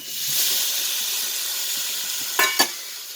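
Tomatoes sizzling in a hot pan for crab curry, a steady bright hiss throughout, with two short louder spatters close together near the end and no talking.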